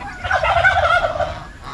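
A turkey gobbles once, a loud, rapid warbling call up close, lasting just over a second.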